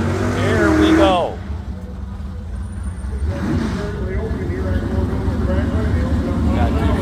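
Two Chevrolet drag race cars launch and run side by side on a drag strip, their engines a steady broad roar that carries on at a moderate distance, with crowd and announcer voices mixed in at the start.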